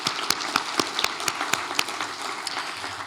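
An audience at a transportation event gives a round of applause for the speakers, steady clapping with sharp individual claps standing out.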